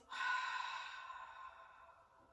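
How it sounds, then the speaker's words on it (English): A long, soft exhale through the mouth during a gentle yoga breathing exercise, a breathy sigh that swells quickly and then fades slowly over about two seconds. "This time we exhale through the mouth"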